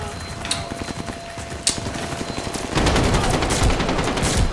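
The KG M40 firing in a video game, a sustained rapid burst that grows louder and denser partway through, close and continuous, with a few sharp cracks early on.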